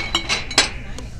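Carnival glass pieces priced at $2.99 clinking together in a thrift store shopping cart, a few sharp close chinks and light rattles in quick succession with no talk.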